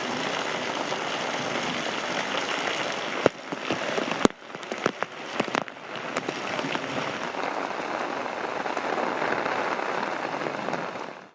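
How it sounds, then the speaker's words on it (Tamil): Heavy rain pours steadily for over an hour on a night in Dindigul, Tamil Nadu, a dense continuous roar of broadband hiss with a few sharp crackles and pops mid-way, no voices heard. "1 மணி நேரத்திற்கு மேலாக கனமழை கொட்டியது"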